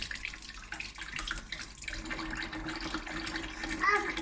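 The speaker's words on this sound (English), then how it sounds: "So let's wash it under the water." Water from a tap runs steadily over a peeled bouncy egg in a sink, a close rushing splash, while an adult and a toddler talk over it.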